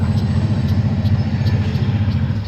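A Canadian National diesel locomotive idles at the North Fond du Lac yard, giving a steady, throaty low engine rumble with a regular pulsing beat, close and continuous with no talk.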